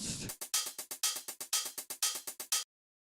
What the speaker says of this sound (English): the first thing I started with were these hi-hats